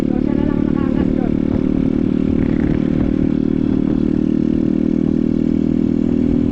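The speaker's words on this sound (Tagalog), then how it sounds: "gamit natin yung motor ni Tol Mix." A motorcycle engine running steadily close by, a continuous mid-pitched drone with some clatter throughout, while voices are faintly heard in the background.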